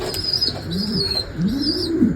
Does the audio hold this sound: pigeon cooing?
yes